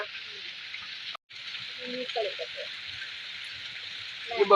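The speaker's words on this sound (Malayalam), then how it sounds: "നമ്മുടെ മസാല തിളക്കാൻ തുടങ്ങിയിട്ടുണ്ട് ഇനി ഇവിടെ മുറിച്ച് വെച്ച മാന്ത മീൻ ഇട്ട് കൊടുക്ക" Masala for a manta fish curry boils and sizzles steadily in a pan, a constant bubbling hiss with a brief cut and a few soft clinks as the cut fish pieces go in.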